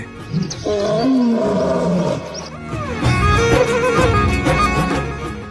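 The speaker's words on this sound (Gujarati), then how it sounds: "જ્યાં આંબરડી સફારી પાર્કમાં સિંહોની ગર્જના સંભળાય છે" Lions roaring at the Ambardi safari park, a deep drawn-out roar followed by a second strong roar with grunting tails, loud and close, layered over each other.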